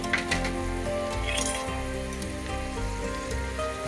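Stuffed okra (bendakaya) with masala filling fries in a pan, giving a steady, close, dense sizzle that runs unbroken throughout with no voices.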